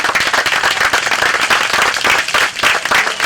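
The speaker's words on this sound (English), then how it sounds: "So I want to give them a round of applause again." A crowd applauds at the inauguration of the Bourgoin Park splash pad, with dense, steady clapping that fills the whole moment and stays loud and close throughout.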